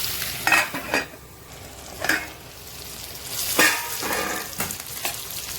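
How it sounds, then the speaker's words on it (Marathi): Green chili peppers and garlic fry in a pan, a continuous close sizzle punctuated by several louder bursts of stirring and spoon clinks against the pan, no voices present. "आपल्या मिरच्या ज्या आहेत मस्त असं फ्राय झाल्या पाहिजेत"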